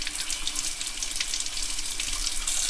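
Tap water runs steadily over a tomato while its skin is rubbed off by hand during preserving, a continuous close faucet splash with no talking.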